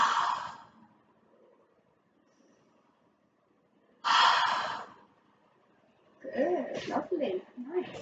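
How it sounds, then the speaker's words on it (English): A deep, slow inhale during a seated chair yoga session is audible as a soft breathy rush, followed by a second fuller breath and then a calm instructing voice. "Breathe in."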